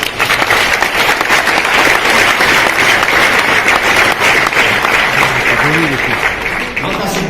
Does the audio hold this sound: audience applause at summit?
yes